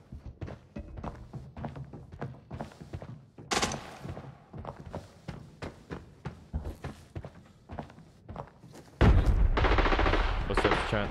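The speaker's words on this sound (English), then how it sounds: "Somebody keeps getting shot over here." Gunfire in the shooter video game Arena Breakout, scattered thuds and shots with a footstep-like patter, ending in a loud sustained burst of automatic fire near the close, heard under a player's talk.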